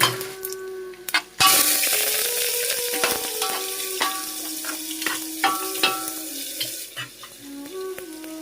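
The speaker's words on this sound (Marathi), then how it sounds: "आता कांदा टाकून घेऊया. आपण आता शिजून घेऊया मस्त." Chopped onions fry and sizzle in a hot pan as the base for a home-cooked dum biryani, with a loud steady crackle, occasional clinks and scraping stirs, and no talking.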